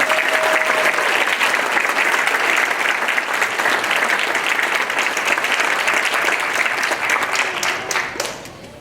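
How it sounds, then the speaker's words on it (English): Audience applauding a student leadership team at a school board meeting: steady, dense clapping throughout that fades slightly at the end, with no talk over it. "So let's have a round of applause for this terrific team."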